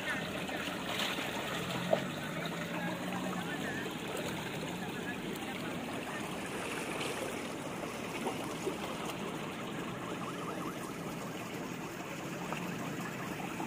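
Dark polluted water pours from an illegal pipe into Manila Bay beside the seawall, making a continuous rushing, splashing flow with no pauses that stays at an even, moderate level throughout.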